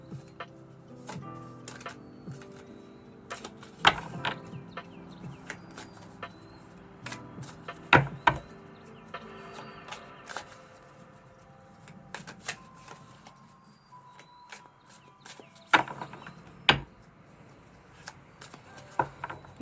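A deck of cards is shuffled repeatedly in quick riffling bursts, with crisp snaps and soft sliding between, close and fairly quiet, no voices.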